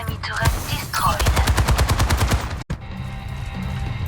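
Rapid automatic gunfire in a video game, a loud burst of about a dozen evenly spaced shots that ends in a sharp cutoff, followed by quieter ambient hum.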